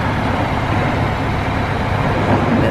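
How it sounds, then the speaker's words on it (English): A water truck at a busy construction site where concrete is being poured, heard as a continuous loud low engine rumble with broadband roar and no speech. "That's the water truck. The trucks will be coming in and out."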